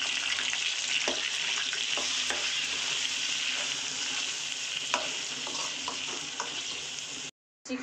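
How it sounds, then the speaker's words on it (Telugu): Chicken with ginger garlic paste, green chillies and bay leaf sizzling steadily in a pot for dum biryani, a constant close frying hiss with scattered stirring clicks and scrapes, no voices, cutting out briefly near the end. "ఇప్పుడు చికెన్ బాగా ఉడుకుతా ఉంది కదండి"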